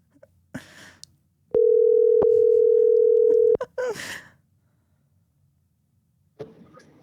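A phone call goes out to a friend. It sounds as a loud, steady single-tone call signal lasting about two seconds, framed by clicks, with brief handling noise and a faint later blip.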